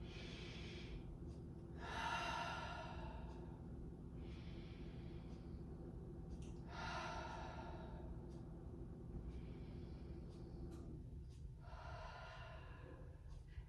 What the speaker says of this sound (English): Let's take 3 deep breaths in through the nose,